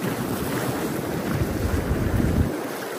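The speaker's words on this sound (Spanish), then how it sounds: "Pero aquí es que las olas sí están bien altas aquí." High waves break and wash on a beach, a steady, loud roar of surf with wind buffeting throughout and no speech.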